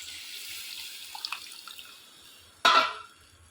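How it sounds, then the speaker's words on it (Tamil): Tamarind water poured into a simmering garlic curry, a sudden splashing gush after quiet kitchen background with faint clinks, lasting about a second. "இந்த ஸ்டேஜில் நம்ம புளி கரைச்சலை ஊற்றிக்கலாம்."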